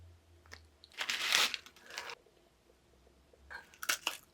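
Crisp bites and chewing of a light, crunchy Japanese sour cream potato cracker, two bursts of loud crunching heard up close with no talk.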